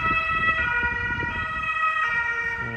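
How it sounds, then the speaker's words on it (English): An ambulance siren passes outside, its wailing tones steady and fairly loud under a constant rumble of road traffic, with no talking. "That was the ambulance."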